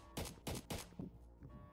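Gunfire in the Roblox shooter Task Force, three heavy, evenly spaced shots in quick succession followed by two softer, more distant ones, with no talking.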